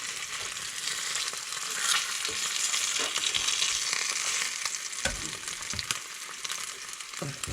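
Brook trout fries in a pan with a dense, continuous sizzle and crackle, close and steady, with occasional pops and scrapes breaking through.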